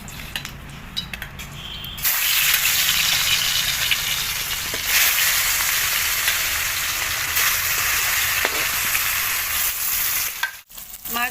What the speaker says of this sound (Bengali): তেল গরম হয়ে গেছে বন্ধুরা, এবার দিয়ে দেবো কড়াইতে মাছ দিয়ে দেবো। মাছটা ভেজে নেব।